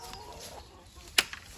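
Hens clucking in a chicken coop on a poultry farm where some birds are sick, soft low clucks with a brief sharp sound near the end, fairly quiet and close, no talking.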